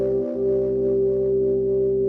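A keyboard chord rings out with all its notes struck together over a steady reference tone, sustaining evenly and loud for about two seconds with no voices.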